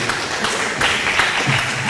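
An audience at a hall of fame ceremony claps together in a brief, dense burst of applause, close and fairly loud, with scattered individual claps over a steady roar.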